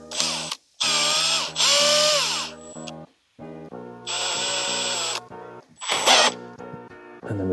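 A small power drill fitted with a 1.5mm bit runs in several short bursts while marking holes for cabinet hinges, its whining motor rising and falling in pitch between brief pauses.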